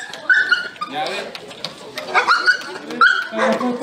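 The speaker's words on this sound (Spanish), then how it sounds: "Y en primer lugar tenemos al can de nombre Perro" A dog at a rural community anniversary celebration in Pachachaca, Yauli, La Oroya gives short yips and whimpers among a crowd, with people talking loudly over and around it.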